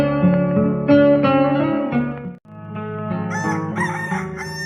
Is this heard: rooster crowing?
yes